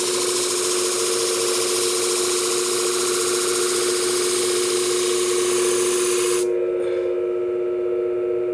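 A Flathone machine sharpening a 10 inch shear gives a loud, steady whirring hiss of grinding that runs without a break, then cuts out sharply near the end and leaves a quieter low hum.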